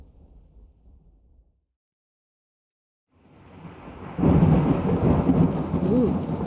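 Deep thunder rumbles in a video game, then falls silent before a thunderstorm builds: a swelling roll followed by loud, steady rain with continuing rumbles.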